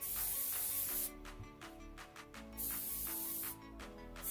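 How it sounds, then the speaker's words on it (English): Bursts of hairspray hissing from an aerosol can, several sprays in a row with short pauses between them, close up. "I just like to go in with some hairspray afterwards"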